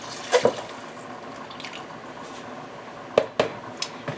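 A quart of liquid, 32 fluid ounces, goes into a pot of homemade beef stew, heard as a few brief splashes and drips over a quiet kitchen background.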